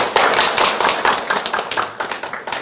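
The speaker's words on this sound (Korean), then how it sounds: "박수 드릴게요." Close, fairly loud clapping from an audience at a panel discussion welcomes a cooperative's representative. Distinct claps come in a brisk, uneven burst, with no talking.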